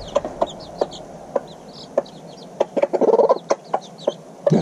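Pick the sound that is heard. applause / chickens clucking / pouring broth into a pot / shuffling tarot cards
chickens clucking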